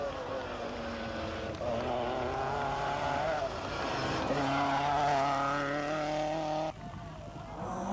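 Lancia and Nissan rally cars at the 1985 Cyprus Rally pushing up a tarmac climb toward Pano Lefkara, engines rising and falling through gear changes in a sustained close roar that drops abruptly near the end.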